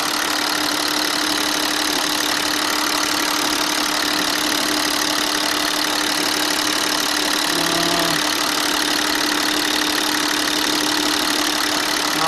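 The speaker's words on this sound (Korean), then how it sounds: "엔진 소리도 좋고" A Hyundai Veracruz 300VX 2WD SUV engine idles steadily and loudly without letup, a constant mid-pitched hum and rumble with no voices over it.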